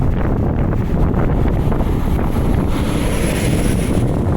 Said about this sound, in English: I know how to get out of the wind.